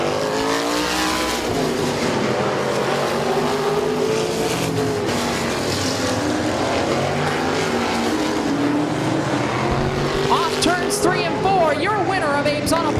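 Race cars roar around the Midvale Speedway track on the final lap of a heat race, engines droning and shifting pitch loudly throughout, with announcer commentary over the noise.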